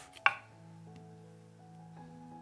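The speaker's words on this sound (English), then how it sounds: "1 piece of ginger in slices." A knife slices ginger on a cutting board, one sharp close chop near the start followed by quiet kitchen hum.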